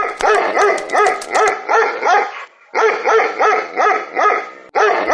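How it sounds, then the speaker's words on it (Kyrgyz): A hound dog barks in a fairy tale, a run of loud, rhythmic, close barks repeated in two bursts with a short pause between. "Эй, тайган, эмне үрүп атасың?"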